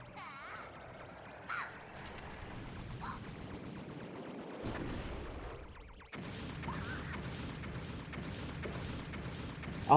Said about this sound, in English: Is that like those explosions right there?